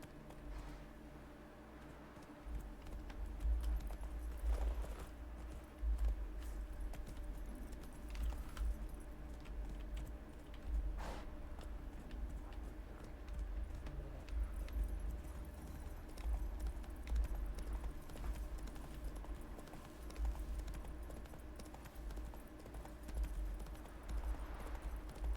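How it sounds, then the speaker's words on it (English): The horse Roach in Witcher 3 makes soft, steady hoofbeats, faint under game ambience and a low rumble. "Tried to jump Roach over the fence"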